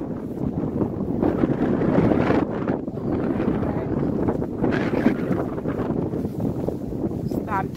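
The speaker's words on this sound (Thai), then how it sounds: "นี่ลมแรงนะจ๊ะวันนี้" Strong wind blusters loudly across a microphone in an outdoor play area. The buffeting is broadband, rough and continuous, with gusts swelling and easing.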